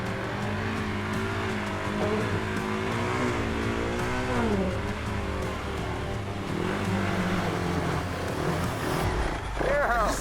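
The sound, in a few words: dirt bike engine revving in mud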